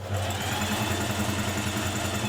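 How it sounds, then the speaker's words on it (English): Steady, continuous whir and mechanical hum of a sewing machine stitching down a dress seam from a Simplicity 2917 pattern, close and even with a low rhythmic drone and no talking. "And then stitch all the way down, removing your pins as you go."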